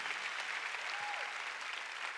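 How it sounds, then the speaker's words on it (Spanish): Congregation applause for the Lord during a bilingual church sermon, a dense, even wash of clapping held steady throughout at moderate distance, with no talking over it. "let's give the Lord a hand"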